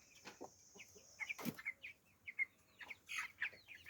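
Three-week-old broiler chickens in a coop on a Jamaican farm give a scatter of soft, close clucks and short calls, one sharper squawk standing out among the flock's murmuring.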